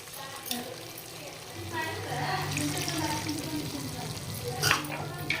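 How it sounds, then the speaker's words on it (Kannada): Water is poured into a mixer jar while a kadai aloo dum gravy is being cooked. It makes a soft, steady splashing over several seconds, with a voice in the background. "ಅದೇ ಮಿಕ್ಸಿ ಜಾರಲ್ಲಿ ಒಂದು ಸ್ವಲ್ಪ ನೀರು ಹಾಕಿ ಅದನ್ನು ಕೂಡ ಹಾಕೊಳತ್ತೀನಿ"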